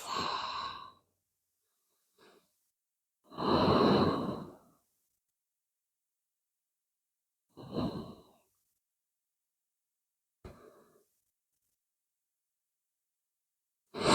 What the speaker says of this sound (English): Breathe in here and breathe out